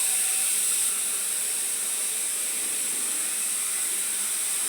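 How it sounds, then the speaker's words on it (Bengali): Water rushes steadily through a newly fitted bathroom pipe as a loud, continuous hiss that stays even from start to finish. "এভাবে জল চালু করে দিলাম।"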